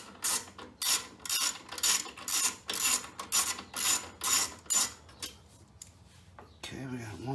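A wrench ratchets bolts loose on a Westinghouse 28000-watt generator during a propane and natural gas conversion: about a dozen close, regular ratcheting strokes, then a quieter pause at the end.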